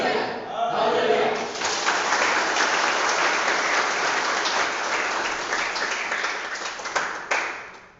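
A church congregation at a Salvation Army Sunday holiness service in Bandung breaks into sustained, dense applause with cheering voices, loud and steady for several seconds before tapering off.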